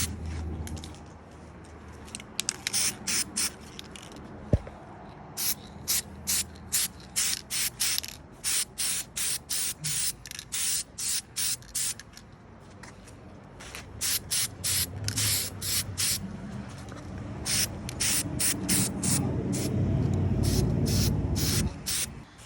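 Short repeated bursts of spray paint hiss as brackets and accessories from a snowplow mount install get one even wet coat, each burst cut off sharply, the bursts coming in quick rhythmic runs close to the mic.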